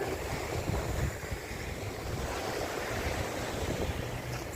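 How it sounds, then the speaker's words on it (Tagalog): Strong sea waves roar continuously at a seaside at night, with heavy gusting wind buffeting the microphone, a dense, loud rushing wash with no voices. "Yung dagat sumusungit na. Yan o, malakas na yung alon."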